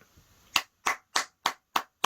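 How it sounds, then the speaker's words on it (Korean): Six crisp hand claps in an even, steady rhythm, close and dry, with no voices around them. "박수 한번 주세요."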